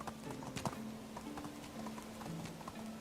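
A horse's hooves clip-clop at a steady trot in the medieval video game Medieval Dynasty. The hoofbeats are faint and even, over a soft, sustained tonal background.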